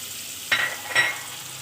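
Spices being stirred in a frying pan for degi chana pulao, two quick scraping strokes over a steady sizzle, close by with no talk.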